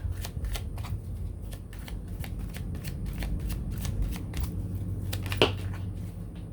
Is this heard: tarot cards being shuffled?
yes